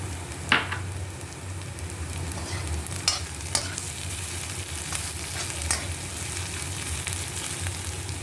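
Onions and pounded masala sizzle and fry steadily in a pan over low flame for a spicy okra dish, with a few sharp stirring scrapes and clinks over a continuous hiss.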